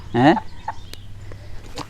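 A chicken about to be slaughtered lets out one loud clucking squawk near the start, followed by a few softer clucks over a low background hum.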